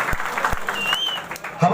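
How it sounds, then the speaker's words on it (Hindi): An audience at a Congress party gathering in a hall welcomes a guest with applause, a few sharp claps then a short spell of steady clapping while a voice carries on over the top. "जरा जोरदार तालियों से उनका स्वागत किया जाए।"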